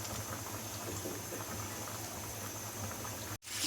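KFC-style chicken deep-frying in hot oil on a stove, a dense, steady bubbling hiss that runs unbroken and close until a sudden brief cutout near the end.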